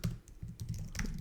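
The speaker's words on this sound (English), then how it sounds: "I go to a Clojure buffer, and then I just start typing some code." Steady typing on a computer keyboard while entering Clojure code, a dense stream of close, crisp key clicks with no pauses.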